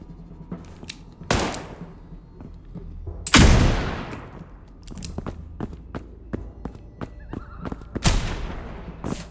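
Shotgun blasts in a video game shooter, several loud sharp booms at irregular intervals, one heavier and more drawn out, among quicker fainter clicks and impacts, with no talking.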